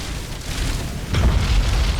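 Mechanicum ships firing in the space strategy game Battlefleet Gothic Armada 2, muffled low booms that swell into a heavier rumbling burst of rapid fire partway through, with no voices.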